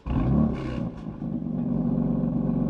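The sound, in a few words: stock BMW M4 engine startup and revs, BMW Sport exhaust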